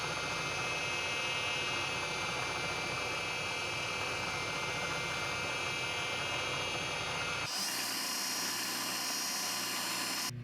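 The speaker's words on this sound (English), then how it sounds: "now I'm going to drill through these 2 holes" A Bridgeport mill drills through a glued-up Micarta knife handle held in a vise. The spindle gives a steady, high whining drone that shifts abruptly in tone near the end as the drill cuts.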